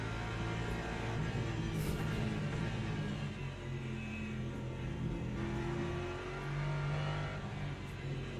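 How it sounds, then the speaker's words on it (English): A flat-six race car engine in a racing video game hums and revs continuously at a moderate distance, its pitch rising and falling with acceleration, no voices. "I can hear the flat six behind."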